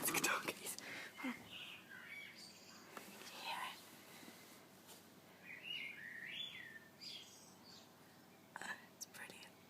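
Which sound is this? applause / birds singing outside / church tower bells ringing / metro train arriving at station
birds singing outside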